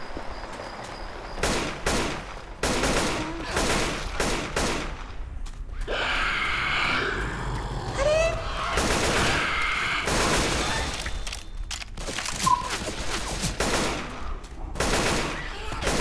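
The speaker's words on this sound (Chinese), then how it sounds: "旁边有枪声" Gunfire in the video game Left 4 Dead 2, with repeated sharp bursts and rapid volleys scattered across about sixteen seconds, broken by brief quieter gaps.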